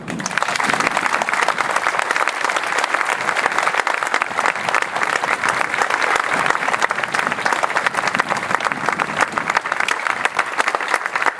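Vigorous, continuous applause from a gala audience for the United States Marine Corps Air Station Cherry Point Color Guard at a 9/11 commemoration, thick crowd clapping holding steady and loud for its full length.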